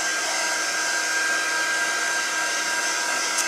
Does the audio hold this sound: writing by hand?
no